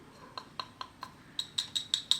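A glass landscaping light cover with a white coating is tapped about ten times, sharp clinks in a steady rhythm, quiet at first and then louder and brighter, with no talking.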